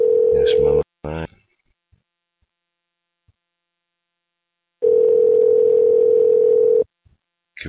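A loud, steady telephone tone sounds while a call is being placed, heard in two long sustained stretches with a silent gap between them and short clipped bursts near the start.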